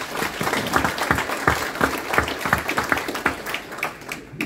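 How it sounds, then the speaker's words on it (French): An audience at a New Year's address applauds the gendarmerie and police with moderately loud, uneven clapping, where individual hand claps stand out within the steady crowd. "Je voudrais qu'on les applaudisse tous."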